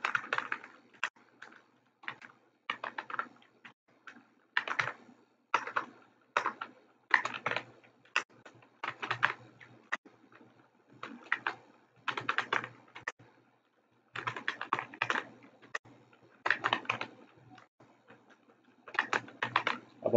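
Steady typing on a computer keyboard while entering names into an Excel spreadsheet, bursts of close, crisp key clicks with short pauses between words, no talking.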